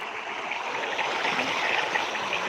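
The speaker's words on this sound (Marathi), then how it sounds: "हे बघा इथे आपलं पाणी चालू आहे" Irrigation water running on a farm in Jalna district, a steady close rushing and gurgling flow with no speech over it.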